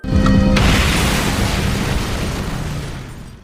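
A terrorist's house blowing up in a film, one sudden loud explosion boom that rolls into a long rumbling decay over a few seconds, with no talk.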